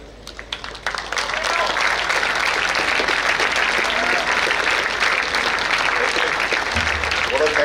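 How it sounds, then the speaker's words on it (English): An audience at a talk on car restoration and automobiles cheers and applauds, a dense sustained wash of clapping that swells after a brief start and carries on loud and steady for several seconds. "the loudest cheer to the Auto Club"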